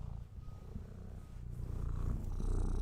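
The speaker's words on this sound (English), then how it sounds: "We can get him to purr more." A cat purring up close in a steady, low, rumbling rhythm that grows slightly louder toward the end, with no talk over it.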